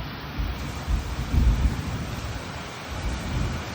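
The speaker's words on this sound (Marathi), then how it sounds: "पावसाचा आवाज." Steady rain hisses throughout, with a low, soft rumble of thunder swelling briefly in the middle.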